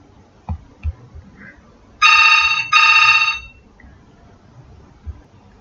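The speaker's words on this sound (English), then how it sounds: "that was a phone call anyways" A phone ringtone sounds in two loud, close bursts with a short gap between them, breaking into an otherwise quiet room with a few soft knocks.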